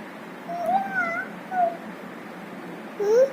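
A voice imitates a cat, giving several short meows one after another, nasal and wavering, with a longer rising meow at the end, close and fairly quiet.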